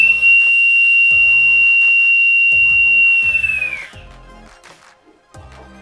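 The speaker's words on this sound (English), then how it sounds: "slowly releasing air until the whistle operates" A breathing apparatus low-pressure warning whistle sounds loud and shrill for about three seconds as air is slowly released, then tails off as air hisses out, followed by soft rhythmic clicks.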